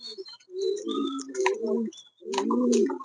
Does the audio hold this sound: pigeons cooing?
yes